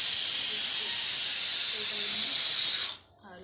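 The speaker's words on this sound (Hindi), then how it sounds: "आलू उबल गए" Steam hissing hard from a pot of boiled potatoes, a loud steady bright hiss that holds for nearly three seconds before cutting off, with faint background sounds underneath.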